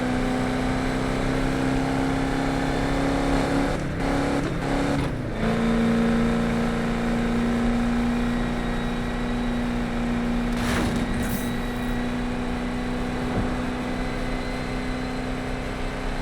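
Steady high-speed car drone from the Need for Speed 2015 video game, with a sustained tonal differential whine running through the continuous engine and road roar, loud and close for the whole stretch, broken by a few brief sweeping transients.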